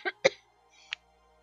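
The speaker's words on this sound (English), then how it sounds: "I apologize for my coughing." A person coughs a couple of short, sharp times close to the microphone, followed by a fainter single cough; the person is coming down sick.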